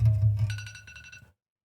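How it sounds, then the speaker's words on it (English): A mobile phone ringtone chimes in short melodic electronic pulses for under a second over a low background hum, then cuts off into silence. "my phone's going off"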